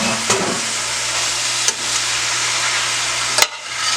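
Fresh chopped spinach sizzles in a pan as it cooks down for a Bajan-style quiche, a steady close hiss with a few soft clicks of stirring, no voices.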